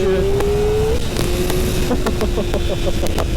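A tuned Kawasaki Ninja ZX-4RR motorcycle engine revving loud and close, its high-pitched whine climbing and then holding at a steady pitch.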